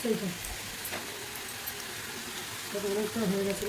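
Oil hisses and sizzles steadily in a pan as food fries, with a voice talking faintly over it.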